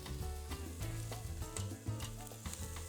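Steak sizzles loudly and continuously over a charcoal fire, a dense crackling fry with faint rhythmic knocks underneath and no voices.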